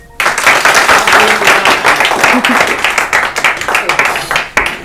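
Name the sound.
audience clapping on a quiz show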